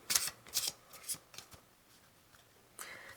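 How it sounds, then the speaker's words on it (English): Large oversized tarot cards being shuffled in a few quick riffling bursts near the mic, with brief papery snaps and slides followed by quieter handling, no talk. "These cards are a little difficult to shuffle because they're so big"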